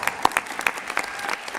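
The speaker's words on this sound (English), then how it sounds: "So give yourselves a nice big round of applause." Brief scattered clapping from a small audience honoring scholastic bowl students at an awards ceremony, a few individual claps rather than a full ovation.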